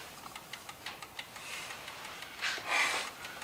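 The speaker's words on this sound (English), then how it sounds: "That thing's ticking away like a heartbeat." An old antique clock ticks in a quick, even rhythm close by, faint and steady, with a soft breath or rustle near the end.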